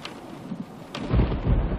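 Rain falls steadily with a low, rumbling roll of thunder swelling in the second half, a soft wash of noise building to a deeper, louder rumble with no voices.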